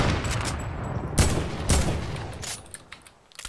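Video game gunfire erupts in rapid bursts of shots, loud and close at first, then thinning to scattered cracks and a few sharp reports near the end, with no voices.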